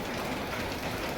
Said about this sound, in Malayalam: മഴ വന്നിട്ടുണ്ട്